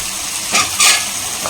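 Crab masala stirred and fried in a pan makes a loud, close sizzle with two sharper bursts as the mixture is turned.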